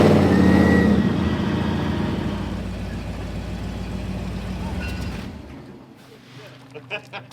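A truck engine roars loudly and steadily up close, its heavy rumble slowly easing off before cutting out, leaving a few faint clicks and knocks in near quiet.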